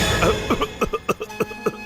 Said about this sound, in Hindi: उन्हें बहुत खांसी है